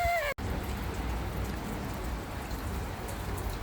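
A hailstorm pours down outdoors, a dense, steady hiss and patter of falling ice and rain that stays loud and continuous, with a brief break near the start.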